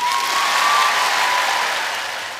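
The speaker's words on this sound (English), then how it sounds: "Everybody cheer." Studio audience applause for a college football guest fills the space as a dense, steady wash of clapping with light cheering, loud and sustained before fading slightly at the end.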